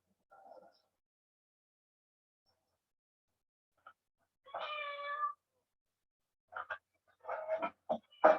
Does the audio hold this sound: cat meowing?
yes